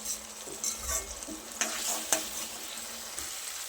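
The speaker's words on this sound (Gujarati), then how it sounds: "ગેસની ફ્લેમને થોડી હાઈ કરી તેલ છૂટું પડે ત્યાર સુધી મસાલાને કૂક થવા દઈએ." Spice masala frying in oil over a high gas flame, stirred until the oil separates, for a Gujarati thali: a steady close sizzle with scattered stirring scrapes and small pops, no talk.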